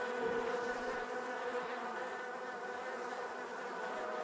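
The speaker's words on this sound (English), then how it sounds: "I hear bees." A swarm of bees in the Christmas mystery game Miss Clue Christmas At Donner's Pass drones in a steady, continuous buzz, moderately loud and unbroken.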